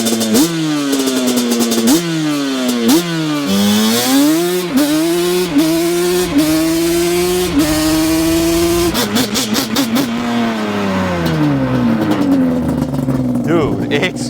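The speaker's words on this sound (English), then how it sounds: "First time, obviously, riding a Banshee with a PVR exhaust system." A 2004 Yamaha Banshee LE quad with a PVR exhaust screams close up through a series of rising revs, climbing and dropping in repeated shifts before settling into a steadier, throaty drone.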